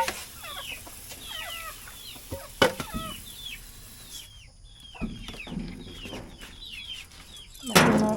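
Chickens clucking and calling close by in a rural yard, repeated short rising clucks in bursts, with a few sharp louder squawks and faint rustling between them.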